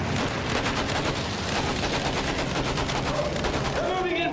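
Sustained machine gun fire in the Battlefield 1 video game, a dense rapid rattle of loud bursts with battle noise underneath that continues without pause throughout.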